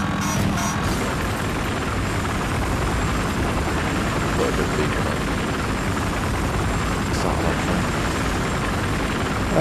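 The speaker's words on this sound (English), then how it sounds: "Helicopter's up." A helicopter in Battlefield Hardline on the Downtown map gives off a loud, steady rotor and engine drone that holds for the whole stretch, with faint voices underneath.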